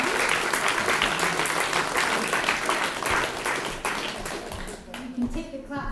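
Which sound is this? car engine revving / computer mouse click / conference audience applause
conference audience applause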